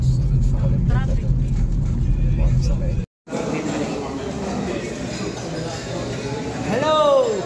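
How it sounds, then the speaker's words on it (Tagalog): Road traffic on a rainy day, engines rumbling steadily with vehicles passing close by, a brief drop-out midway, and a horn-like tonal sweep near the end; voices talk over it. "Traffic."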